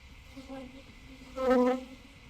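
Honey bees buzz close by at a hive with a droning hum, swelling briefly louder as one passes near, over a soft background hum.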